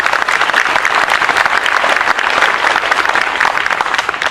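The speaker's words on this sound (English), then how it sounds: "So give yourselves a round of applause." Sustained crowd applause at an outdoor Memorial Day ceremony in Leesburg, loud, dense clapping filling the whole stretch without a break.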